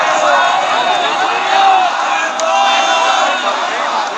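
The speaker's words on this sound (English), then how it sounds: "A mob surrounded the building." An angry mob surrounds a KGB headquarters building in Dresden at night, a loud, steady roar of massed shouting voices that swells and dips slightly with no pauses.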